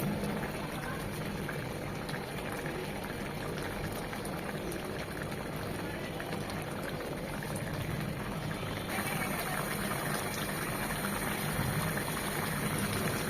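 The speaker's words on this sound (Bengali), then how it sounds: "2 থেকে 3 মিনিট আরেকটু ঝোলটা টানিয়ে নেব" Bele fish and drumstick stew with potato and mustard paste simmers steadily in a pan, a soft continuous bubbling hiss that holds at low volume throughout with no talk.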